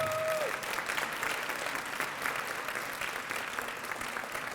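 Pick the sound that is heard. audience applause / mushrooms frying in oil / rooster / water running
audience applause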